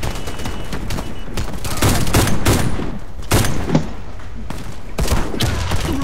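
Marksman rifle shots ring out in bursts during a Warface online match, sharp cracks spread irregularly over several seconds with a rapid volley near the end, loud and close amid game noise.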